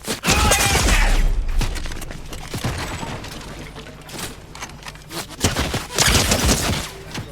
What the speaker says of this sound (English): I saw some guards at the bottom of this forecast tower, so I went to try and snipe them.